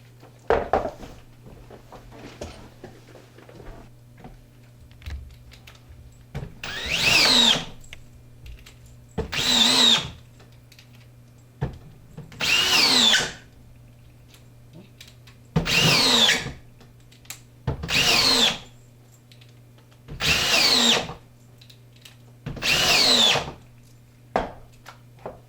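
A DeWalt drill/driver runs in seven or eight loud bursts of about two seconds each, separated by quiet gaps with a low steady hum underneath and no talking.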